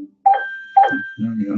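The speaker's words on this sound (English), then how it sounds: "the sound you're hearing coming from the Google Home here, Mini" A Google Home Mini smart speaker plays its setup chime, two short bright tones about half a second apart, followed by a voice speaking.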